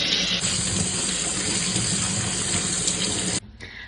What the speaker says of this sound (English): And next I'm just gonna rinse them with cold water.